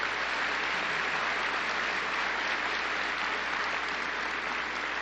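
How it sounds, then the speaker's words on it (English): Continuous dense crowd applause fills a Donald Trump political rally in Indianapolis, Indiana, loud and steady from start to finish with no speech over it. "I'm going to tell him about the spontaneous applause before I even finish"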